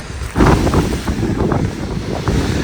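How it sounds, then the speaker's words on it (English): Strong wind of about 20 miles an hour buffets the microphone in rough, uneven gusts at a campsite by a glacier's toe, a loud rushing roar outdoors with no voices. "see how windy it is outside."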